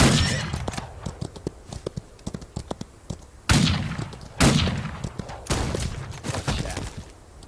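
Gunfire crackles in a Wild West video game, with a rapid string of sharp shots followed by two louder, booming blasts and scattered reports, mixed with galloping hoof clatter.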